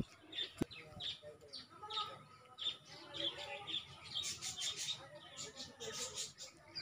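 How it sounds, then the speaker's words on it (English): Birds chirp and tweet repeatedly at a moderate distance, short bright calls scattered over a low background hum. "We also hear the song of birds."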